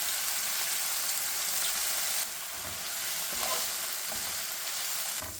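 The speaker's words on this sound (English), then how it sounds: "leave it on medium heat and we're going to be flipping this over every few minutes until it's fully cooked" Thin chicken shawarma pieces fry in a pan on medium heat with a steady, soft sizzle and hiss that continues throughout, briefly shifting in texture as the meat is moved.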